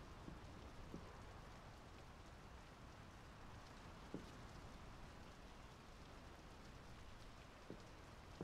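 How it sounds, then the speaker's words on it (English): Steady rain falls in the video game Draugen, a dense, even hiss with faint scattered drops, continuous and moderately distant, with no voices. "The rain's picking up."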